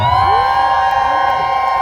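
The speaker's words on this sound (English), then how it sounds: "Let's give the mayor and Renee another round of applause" Crowd cheering and whooping at an outdoor rally for Trans Day of Visibility in Memphis, Tennessee, a loud, continuous wash of voices and high-pitched shouts that fills the whole brief moment.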